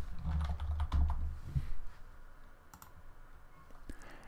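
Scattered keystrokes on a computer keyboard while Ruby code is typed, a few sharp clicks close by over a low room hum, with no speech.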